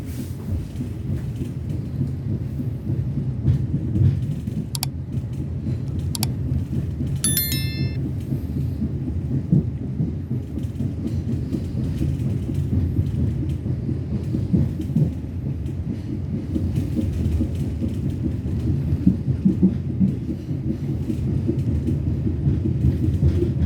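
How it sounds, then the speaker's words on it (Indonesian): Indonesian Gumarang train pulling out of Cirebon Kejaksan station at night, a steady low rumble of rolling wagons with a brief high horn-like tone early on, continuous throughout. "kereta api Gumarang diberangkatkan dari stasiun Cirebon Kejaksan pukul 23:40 menit"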